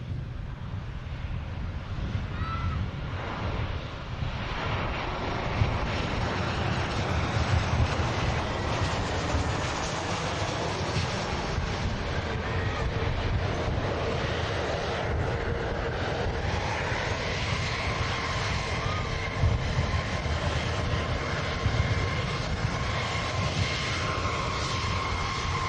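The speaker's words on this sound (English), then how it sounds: "Jet 2 next to land from Geneva." A Jet2 airliner arriving from Geneva lands at Manchester Airport, a broad continuous engine roar heard from a distance, holding steady for about twenty-five seconds with no voices over it.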